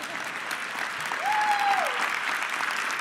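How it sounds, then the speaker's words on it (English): Audience applause at a Microsoft Ignite tech keynote, a steady wash of clapping from a large crowd throughout, with a brief tonal whistle-like sound rising over it midway. "Yeah, you can clap for that."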